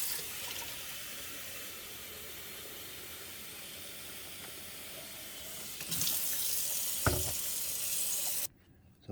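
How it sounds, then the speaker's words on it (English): Tap water runs into a Great Value 10-cup water filter pitcher as a soft, steady hiss. The stream grows louder and fuller about two-thirds of the way through, then cuts off abruptly near the end. "Now let's go put some water in."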